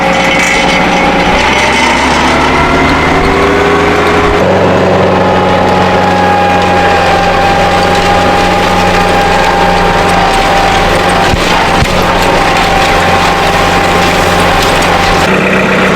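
A tractor engine runs hard while tilling a food plot among trees, a loud, steady, close-up roar with a shift in pitch and load partway through and occasional clanks from the implement.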